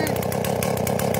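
Stihl 038AV Magnum chainsaw engine held at a loud, steady high idle, a continuous buzzing drone with fast regular pulsing throughout, close by.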